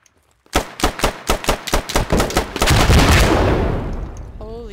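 Rapid bursts of gunfire, about a dozen evenly spaced loud shots, lead into a heavy rocket launcher blast whose roar swells and slowly fades in a Squad battle on the Al Basrah map.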